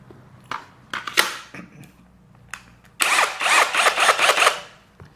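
A Dongcheng DCZC22 cordless rotary hammer drill set to normal drilling mode gives a few short whirring bursts, then runs loudly and steadily for about two seconds before stopping.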